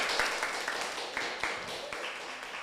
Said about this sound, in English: Let's give that speaker a round of applause.